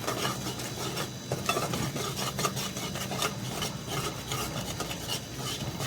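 Continuous scraping and stirring of spices in a pan, a rough rasping rub repeating steadily at close range, with no talking.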